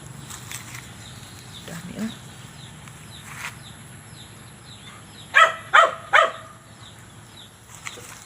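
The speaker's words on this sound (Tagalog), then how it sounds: "ingay ng aso namin" A dog barks three times in quick succession at a middle distance, with faint background noise and a few softer sounds before.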